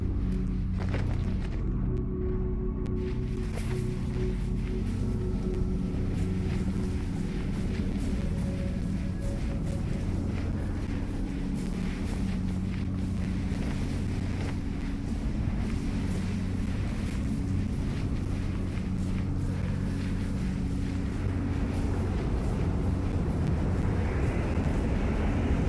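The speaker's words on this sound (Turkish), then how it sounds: "Eyvah eyvah. Rüzgar çıktı." Wind sweeping across the landscape in the video game Journey: a steady, loud, low roaring rush that holds continuously throughout, with a faint airy hiss above it and no voices.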